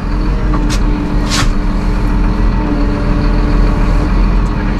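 A Massey Ferguson 7715S Dyna6 tractor drives close by with a steady, loud low engine rumble, broken by a couple of brief higher bursts.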